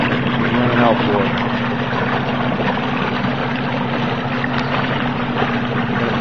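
A 1995 Mariner 8 HP two-stroke outboard with a 25-inch shaft and electric start runs steadily in forward gear, a constant close buzzing drone with a steady hum throughout, with a voice talking over it.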